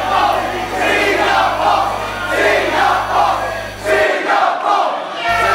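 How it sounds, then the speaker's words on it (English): A vocal Singapore crowd at a live wrestling event roars and chants continuously in loud, rhythmic swells, filling the arena with a dense, sustained wall of cheering. "the Singapore crowd is vocal and in full force for Andrew Tang"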